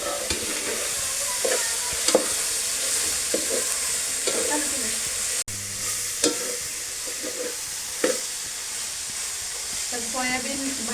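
Soaked soybeans frying with cumin, bay leaf, mustard seeds, tomato, onion and red chili powder in a pan, a continuous loud sizzle broken by occasional utensil scrapes and clinks while stirring.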